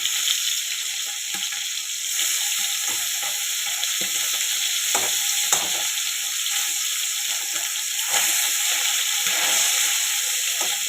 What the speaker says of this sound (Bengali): দেখো, এটা কিন্তু হালকা ফ্রাই হয়ে গেছে